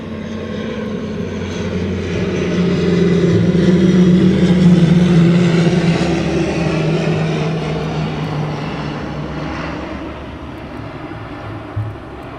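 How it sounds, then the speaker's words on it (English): Propeller aircraft engines run at night at East Midlands Airport, a loud, steady droning rumble that swells toward the middle and then eases slightly, continuous and fairly close with no talk. "You can see the propellers are nicely lit up there and blurring."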